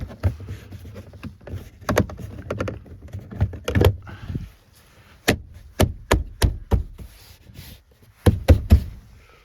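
Toyota RAV4 rear door trim panel being pressed into place, a series of sharp plastic knocks and snaps, some single and some in quick pairs, close and loud with short pauses between.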